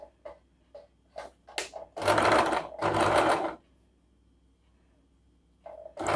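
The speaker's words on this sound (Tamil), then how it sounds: "இப்போ இது ஸ்டிச் பண்ணிக்கலாம்." Sewing machine stitching piping with a single foot, short bursts of rapid mechanical stitching followed by two longer runs, then quiet, close and clear.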